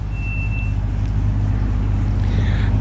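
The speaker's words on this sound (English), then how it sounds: "we have a Callaway supercharged C6 Grand Sport" A Callaway supercharged Corvette C6 Grand Sport sits idling nearby, a steady low engine rumble running throughout with a brief faint whine near the start.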